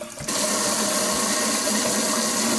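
A kitchen sink faucet with a freshly cleaned aerator runs at full, steady flow, a continuous close hiss of water that starts abruptly after a brief moment of quiet and keeps going without a break.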